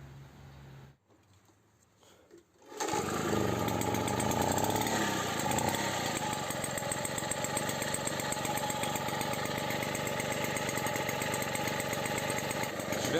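A Motobécane AV85 moped engine with its cleaned, refitted original exhaust starts after a quiet moment, then runs loud and close with a steady buzzing two-stroke drone for the rest of the clip.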